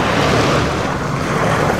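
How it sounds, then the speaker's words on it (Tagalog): Waves and water washing against the edge of a beach shore, a steady broadband surf wash with wind, close and continuous, with no voices. "hampas ng alon at tubig yung maririnig natin dito sa gilid ng dalampasigan"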